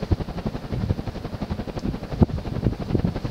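A c. 1980 GGC Tropic-Aire 50-inch ceiling fan with a large Fasco motor runs at speed, giving a steady whooshing hum with rhythmic blade pulses and an occasional soft knock, close and moderately loud.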